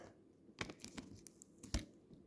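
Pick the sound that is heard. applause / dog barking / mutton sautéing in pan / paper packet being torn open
paper packet being torn open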